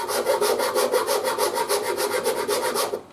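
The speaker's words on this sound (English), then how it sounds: "That's what sandpaper's for, and sanding blocks and stuff, to tidy all that stuff up." Rhythmic back-and-forth scraping of sandpaper on a wooden bass guitar in a luthier's workshop, about seven strokes a second, loud and close, stopping abruptly at the end.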